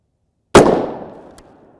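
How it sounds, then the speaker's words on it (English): A single sharp rifle shot strikes a Level III UHMWPE armor plate, loud and close, with a ringing tail that fades over about a second and a faint extra tick shortly after. "Shooting towards the bottom."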